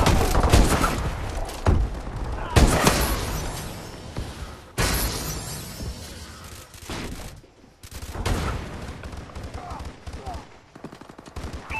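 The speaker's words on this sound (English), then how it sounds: "Sniper fire!" Sharp gunshots and crackling volleys ring out in a Call of Duty: Advanced Warfare multiplayer match, including sniper fire, with several loud bursts separated by shorter lulls.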